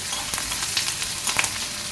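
Steady crackling sizzle of a tempering of green chilies and curry leaves frying in hot oil, continuous and close, with small pops throughout.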